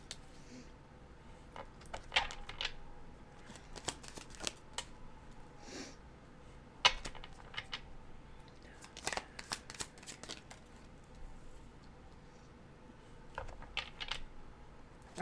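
Tarot cards being shuffled and drawn during a live reading, heard as scattered soft riffles and slaps that come in bursts with pauses between them, all at low volume in a quiet room.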